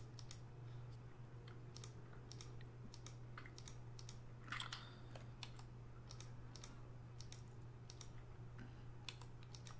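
Rapid, irregular clicking of a computer keyboard being typed on during a Factorio gaming session, close and fairly steady over a constant low hum, with one brief louder burst midway.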